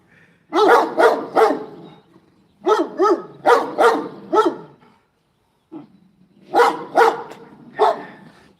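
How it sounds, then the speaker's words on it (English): Dogs up on a roof bark in bursts of two or three loud, sharp barks, pausing between volleys, fairly close and clear with quiet background. "Y'all see those dogs up there? They getting their bark on."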